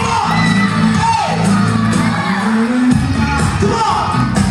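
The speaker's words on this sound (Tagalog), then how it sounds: "Palakpakan at sigawan!" Guests at an 18th birthday party applauding and cheering for the celebrant's parents, a loud sustained roar of clapping, whoops and shouts over the whole stretch, with a host's voice calling out on top.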